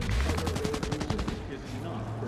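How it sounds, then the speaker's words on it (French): Rapid gunfire crackles at night in the city streets of the video game Cyberpunk 2077, a dense burst of shots fading after about a second and a half, with game sound continuing beneath. "Night City, les coups de feu dans la nuit,"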